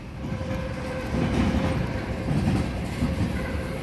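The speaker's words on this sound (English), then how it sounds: "Very slow train. Yep, it is stopping." A very slow Norfolk Southern freight train rolls past and comes to a stop, giving a close, continuous low rumble with steady wheel and car noise throughout.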